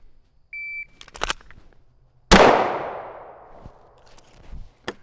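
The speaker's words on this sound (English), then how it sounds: "What I'll do on the timer is just load around and I'll fire one into the smaller circle" At an indoor shooting range, a short electronic shot-timer beep sounds, followed a moment later by a single sharp, loud pistol shot with a ringing decay, then a few faint clicks and a metallic clink.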